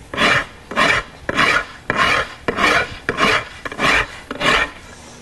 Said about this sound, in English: and I'll just start rasping on it.